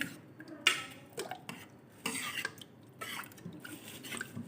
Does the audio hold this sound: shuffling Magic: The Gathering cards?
no